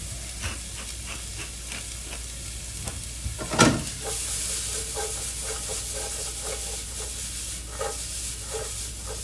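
Corned beef hash sizzles in a pan with a continuous hiss, broken by scraping and stirring taps and one sharper clatter near the middle, no talking.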